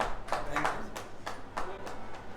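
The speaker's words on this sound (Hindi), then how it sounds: "तालियों के साथ सम्मान प्रेषित करें" Applause for an award recipient at a Jan Lekhak Sangh award ceremony and state conference. Scattered claps from a small audience come in uneven bursts, with a voice talking underneath.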